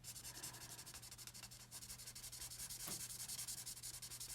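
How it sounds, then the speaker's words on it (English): A marker scratches and rubs on card stock while blending colors, a faint, steady, rhythmic scraping that runs close and unbroken with no talk over it. "I hate the noise of this marker."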